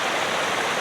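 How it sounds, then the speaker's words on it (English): A river flows about half a metre away at a campsite, a loud, steady rush of water with no pauses. "The river is literally 50 centimetres behind the tripod, so it's pretty loud"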